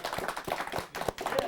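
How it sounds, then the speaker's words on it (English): A small studio audience claps for a live show: thin, loose applause with individual hand claps distinct, moderately close, and a short dip before the clapping resumes. "Give some more applause,"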